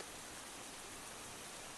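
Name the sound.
rain easing off to light droplets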